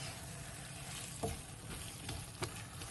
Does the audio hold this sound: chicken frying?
yes